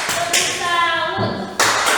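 A group of people gives a 'tepuk salut' cheer, with a few sharp sets of hand claps mixed with loud voices chanting together, close and lively.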